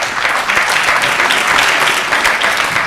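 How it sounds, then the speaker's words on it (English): Sustained, dense round of applause from an audience at a community forum on fracking, loud and steady for the whole stretch with no talk over it. "You can give yourselves a round of applause."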